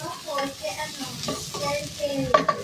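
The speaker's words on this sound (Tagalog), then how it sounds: "Lagyan natin yung gulay" Vegetables tossed and stir-fried in a hot pan for fried rice, giving a steady sizzle with scraping stir strokes and a couple of sharper clanks near the end, close and fairly loud.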